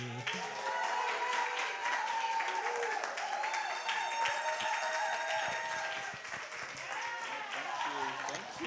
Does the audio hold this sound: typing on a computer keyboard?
no